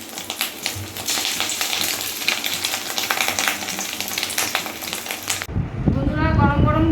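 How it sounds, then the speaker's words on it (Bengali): Fish roe fritters fry in oil with a steady dense sizzle that runs for several seconds, then shifts abruptly to a louder bubbling crackle. Some voice is faintly present. "বড়ার মতন করে করে এমনি গোল গোল করে ভাজবো"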